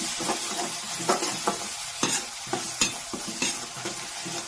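Salt and mixed meat masala fry in a pan for chicken curry, a hissing sizzle punctuated by regular spoon scrapes and stirring clanks roughly every half second, close and without speech.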